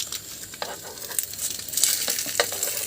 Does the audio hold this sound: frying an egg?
yes